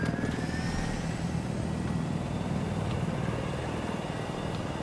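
Helicopter engine and rotor noise in a Battlefield 4 multiplayer match, a steady dense drone that holds loud and unbroken throughout with no talk over it.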